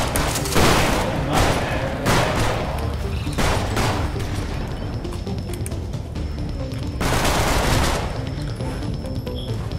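A video game firefight: loud, close gunfire with repeated heavy blasts, including a grenade explosion, crashing in dense bursts across the whole stretch with little pause.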